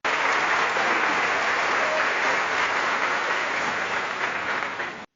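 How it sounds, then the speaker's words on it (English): Audience applause at the 2024 ETims awards ceremony as a fellowship award goes to Rangers Football Club, a dense, sustained clapping roar for about five seconds, steady and fairly loud before cutting off. "So a big round of applause."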